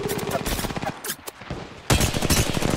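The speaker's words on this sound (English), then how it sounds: "Taking fire! They're shooting at me!" Rapid automatic gunfire from a mobile battle-royale shooter, Apex Legends Mobile, bursts crackling densely with a short gap, then resuming loud and close.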